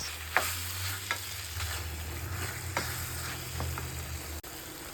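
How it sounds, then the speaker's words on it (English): Garlic chicken sizzling in sesame oil as soy sauce goes into the pan, a steady close frying hiss with a few clinks and stirring scrapes, no talking. "Okay, we are adding our soy sauce."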